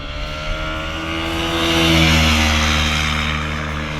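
A BMW G310GS single-cylinder motorcycle engine revs up toward 7000–8000 rpm and then eases back, a loud, close, steady rising-and-falling drone with strong harmonics.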